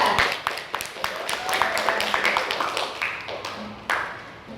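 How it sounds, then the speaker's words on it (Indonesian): A classroom of pupils claps for a classmate, a brief scattered round of applause with irregular hand claps, fairly close and moderately loud, mixed with some voices. "Beri tepuk tangan untuk Haida."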